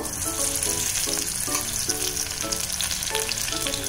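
Oil heats and sizzles steadily in a wok for small shrimp pakoras, a dense crackling fry at constant level with faint clinks of stirring and no talk.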